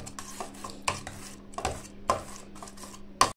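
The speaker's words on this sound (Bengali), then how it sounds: "এইভাবেই গ্লাসের সাহায্যে ম্যাশ করে দিই।" Apple is mashed for a baby by pressing with a glass in a bowl: light, irregular clinks and knocks of glass, with soft squishing scrapes between them, close and quiet.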